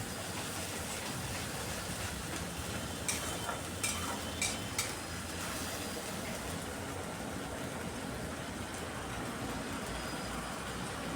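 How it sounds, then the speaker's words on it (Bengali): A ginger, onion and garlic paste masala is stirred in a pan for an egg dish, a faint, continuous scraping and soft sizzle that runs steadily throughout. "পেস্ট করে রাখা মশলাটা দিয়ে আরও কিছুক্ষণ খুব ভালো করে মিশিয়ে নিতে হবে।"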